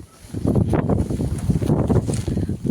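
Gusty wind from a rainstorm buffets the microphone on a village rooftop terrace in low, rumbling bursts that rise and fall irregularly, close and fairly loud.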